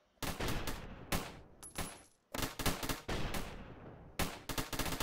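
A machine gun tower firing in the Roblox Tower Battles video game, loud rapid bursts of gunfire in several rattling volleys separated by short pauses.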